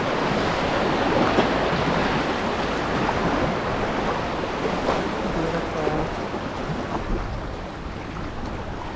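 Ocean waves churn around Mokoli'i Island off Oahu, Hawaii, a loud, continuous wash of choppy water heard up close, with gusts of wind buffeting the microphone.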